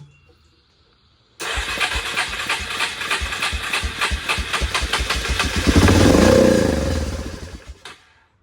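After a moment of quiet, a small ATV engine, with a little gas poured in to get it going, cranks and catches, then runs with a rapid, loud putter that revs briefly before cutting off.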